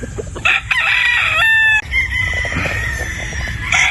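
A young gamecock crows loudly and close by, a long strained call rising and falling, with farmyard noise in the background.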